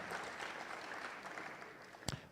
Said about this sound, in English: If you cannot clap for anything, please clap for that.